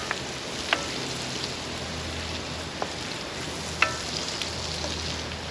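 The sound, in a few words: onion and pepper sautéing over an open fire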